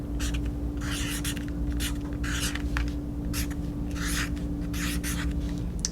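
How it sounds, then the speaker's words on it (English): Pen writing across a paper craft card for a Halloween project, short scratchy strokes in bursts with brief pauses, close and steady over a low constant hum, no talking. "And I'm gonna write,"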